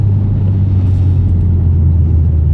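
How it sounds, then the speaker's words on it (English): A turbocharged, stick-shift Hyundai Genesis Coupe 2.0T hums from inside the cabin in a steady, loud, low drone with a constant rumble under it and no voices. "It's such a big difference going from automatic Sonata to stick shift Genesis Coupe turbocharged"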